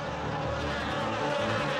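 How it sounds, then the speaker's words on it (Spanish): A dense swarm of flies buzzing as a film sound effect, a steady, loud insect drone that fills the whole stretch without breaks and with no voices. "Enormes enjambres de moscas venenosas entraron a las casas de los egipcios"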